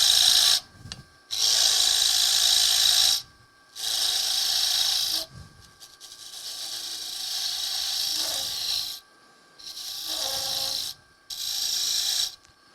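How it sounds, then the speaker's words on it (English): An Easy Wood tool cuts a tenon on a wooden lidded box spinning on a wood lathe, giving repeated bursts of hissing, scraping cuts separated by short pauses. "So I'm just going to take this Easy Wood tool again. Just go right to it."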